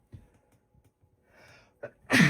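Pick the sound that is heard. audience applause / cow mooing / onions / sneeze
sneeze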